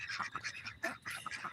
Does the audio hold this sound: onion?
no